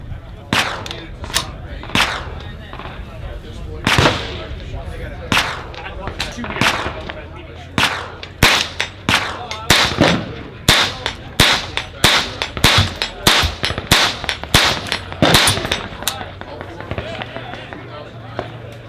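A Savage A17 semi-auto 17 HMR rifle firing, a long series of sharp, loud cracks, sparse at first then coming faster in quick succession, close by, with a voice heard between shots.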